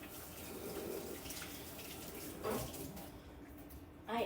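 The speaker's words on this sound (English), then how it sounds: "So let me wash my hands so we can get started. Soap and water." Hands washed with soap under a running kitchen tap, a steady close splash of water running throughout with a brief louder gush near the end.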